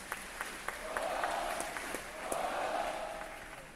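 Audience at a school Veterans Day assembly applauds family members of veterans, a soft, somewhat distant wash of clapping with a few sharper claps standing out, steady for several seconds.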